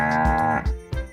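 Cows mooing inside a farm barn: a long, low bellowing moo with rich harmonics, followed by shorter overlapping lows from nearby cattle, loud and close with no talking.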